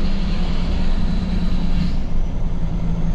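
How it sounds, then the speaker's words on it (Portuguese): A RAM 2500 pickup running with the exhaust brake engaged produces a constant, heavy low roar with a faint higher whine, loud and near, without any voices. "Ó o freio de escape."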